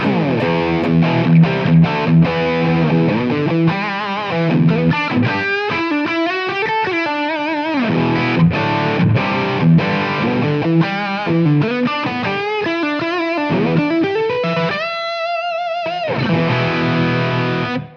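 An electric guitar played through a TONEX blended amp capture with heavy overdrive, loud and gritty, running through a quick melodic phrase with sustained distorted notes near the end.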